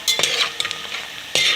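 Onions browning in a pan and being stirred with a utensil: a soft steady sizzle under a few sharp scraping strokes, close and fairly quiet, with no voices.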